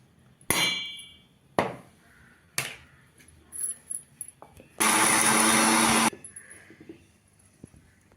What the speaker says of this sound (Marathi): मिक्सरमध्ये वाटून घेतलेलं आहे बघा